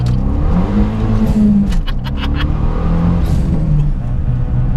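A Renault Megane R26 engine revs up hard as it accelerates in first gear, rising in pitch with loud droning, some high clicks and a brief voice mixed in.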